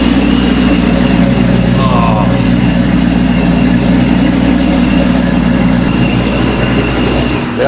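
A loud, deep exhaust from a Chevrolet C10 pickup truck rumbles steadily at close range from the rear, with a brief exclamation from a voice partway through.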